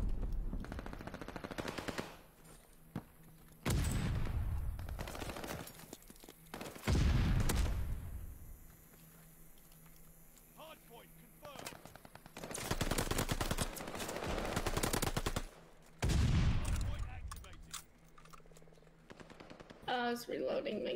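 Rapid bursts of automatic gunfire and heavy blasts crackle through a ranked online shooter match, with loud stretches broken by quieter gaps and a player's voice talking at points.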